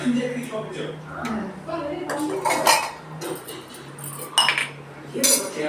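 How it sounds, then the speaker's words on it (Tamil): A spoon clinks against a cup while stirring coffee, with a string of irregular bright taps and scrapes close by and voices in the background. "நான் காஃபி கலந்துக்கிறேன்"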